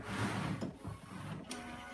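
A home-converted DTG shirt printer running in a living room, a continuous whirring and clicking mechanism at moderate loudness with brief sharper ticks as the print head moves.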